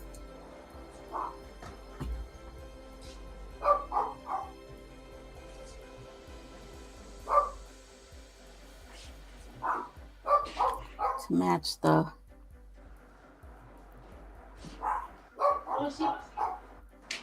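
Dogs named Grumpy and Sally bark in short loud bursts and clusters, some close and sharp, repeating through the stretch while someone talks between volleys in a home art studio.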